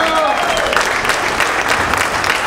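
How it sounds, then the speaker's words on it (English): Dense, steady applause from a comedy club audience fills the whole stretch, loud and continuous, with crowd noise mixed in and no speech over it. "Big round of applause, Jay McFall."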